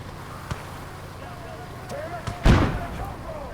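A flak gun fires during a war-film battle, one sharp booming report ringing out loudly against a rumbling background, with fainter thuds before it and voices nearby.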